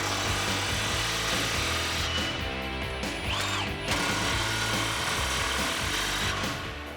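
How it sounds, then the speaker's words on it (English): An impact gun fitted with a 15mm socket hammers at exhaust clamps on a 2018 Mustang GT axle-back exhaust, a close rattling burst of rapid impacts and clatter running throughout. "Next thing I'm gonna do is tighten our clamps up before we put our tips on. I have a 15mm socket on my impact gun here."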